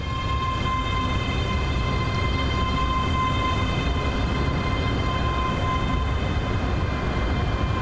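A steady rumbling train ride on a Glasgow to Dunblane line, heard from inside the carriage, with a constant low roar of wheels on track and a faint sustained whine throughout.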